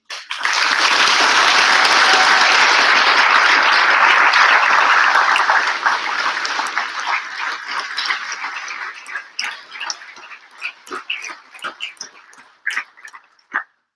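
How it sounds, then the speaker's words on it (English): A graduation audience bursts into a strong round of applause for the team, dense and loud for several seconds before thinning into scattered individual claps that fade out. "So a huge round of applause for the team"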